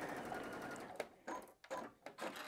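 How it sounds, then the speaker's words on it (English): A sewing machine stitches quilt fabric squares together in short bursts of rapid whirring, pausing briefly between runs, close and fairly quiet. "you can just stitch them on to the outside edges here"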